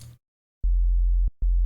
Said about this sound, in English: I'm modulating the frequency of the sine wave with whatever's happening in that granular oscillator.